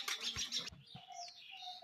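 Pigeons call nearby, a busy burst of chirpy calls followed by quieter, drawn-out tonal notes, with no speech.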